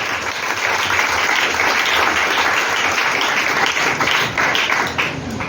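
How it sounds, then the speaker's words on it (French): A church congregation bursts into sustained applause, dense and loud clapping from many hands filling the space evenly from start to finish. "Acclamons Jésus"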